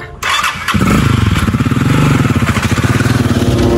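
A motorcycle engine starts with a brief thump and cough, then catches and revs loudly and steadily up close, its pulsing rhythm filling the rest of the stretch with no talk over it.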